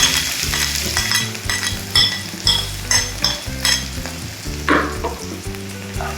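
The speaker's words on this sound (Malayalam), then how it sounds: "കൊച്ചുള്ളി വെച്ചിട്ട് നമ്മളിങ്ങനെ എണ്ണയിലിട്ട് ഇങ്ങനെ അത് കിളക്കി കൊടുക്കുക" Sliced small shallots crackle and hiss in hot oil for a Kerala-style squid dish, stirred with repeated scraping and clinking of a utensil against the pan, close and fairly loud over a low steady backing tone.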